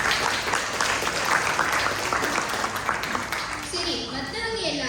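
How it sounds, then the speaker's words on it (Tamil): An audience at a Malaysian student Tamil drama gives a round of applause, a thick and steady wash of many hands clapping that fades near the end as a voice starts speaking. "எல்லாருக்கும் ஒரு கைத்தட்டல் கொடுக்கலாம்."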